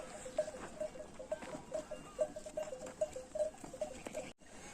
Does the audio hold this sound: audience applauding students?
no